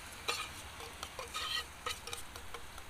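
Chicken pieces go into a hot pan of sizzling green pepper, giving soft crackling and frying hiss with scattered scrapes and stirs, quiet and close.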